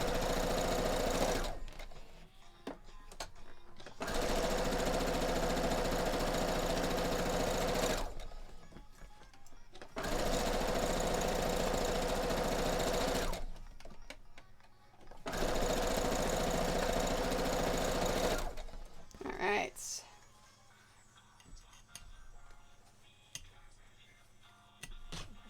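A sewing machine stitches quilt pieces for a Wonder Woman quilt in four long steady runs of whirring, each several seconds, separated by short pauses, close and loud.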